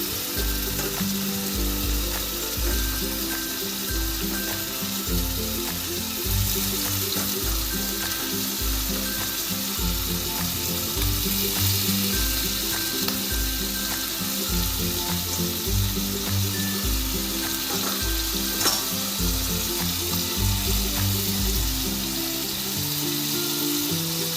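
Chicken meat for chicken kosha fries in a pan with a loud, continuous sizzle and crackle, broken by repeated rhythmic scraping and stirring knocks throughout.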